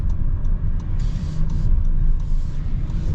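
A 2025 Honda Odyssey minivan with a 10-speed automatic transmission drives along, giving a steady low road rumble and engine drone from inside the cabin, with no one talking.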